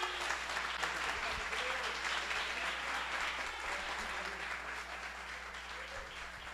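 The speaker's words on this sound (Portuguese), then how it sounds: "Dê uma salva de palmas." A church congregation applauds steadily throughout, a dense wash of clapping with faint voices mixed in, easing slightly toward the end.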